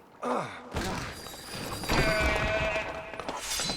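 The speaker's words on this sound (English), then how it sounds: "We got a goat, and we got a sheep." A goat and a sheep bleat in the LEGO The Hobbit video game, a wavering animal cry followed by further bleating over a busy layer of game effects and background music.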